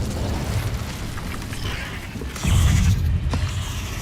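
An Incendio fire spell bursts in Hogwarts Legacy, a rumbling whoosh of flame that swells into a louder roar partway through with crackling pops, close and loud, no speech.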